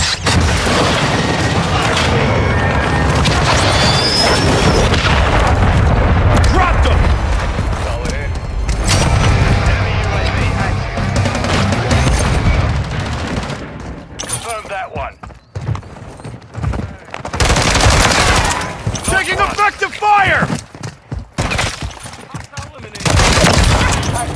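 Heavy gunfire and booming explosions from the video game Call of Duty MW3 (2023) pound almost nonstop, with loud bursts and rapid fusillades, a brief quieter lull midway, and game voices calling out under the barrage.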